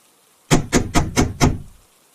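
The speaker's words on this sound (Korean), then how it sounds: "다급하게 문을 두드리는 소리였다." Five urgent knocks on a hotel room door: quick, heavy, evenly spaced blows close by, with no voices.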